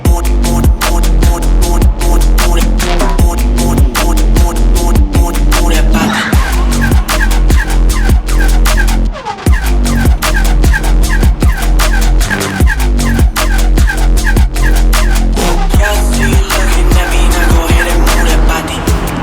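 A Porsche 992 Turbo S driven hard along back roads: a loud, close engine roar that climbs and drops through repeated gear changes, with sharp revving bursts and a brief lull near the middle.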